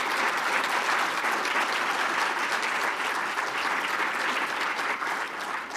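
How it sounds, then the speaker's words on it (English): A seated audience at an evening talk series on equitable housing claps steadily and fairly loudly, a dense even wash of applause holding throughout without any voices. "A round of applause again for all of our talkers this evening."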